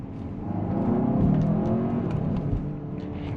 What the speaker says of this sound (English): let's do a quick little acceleration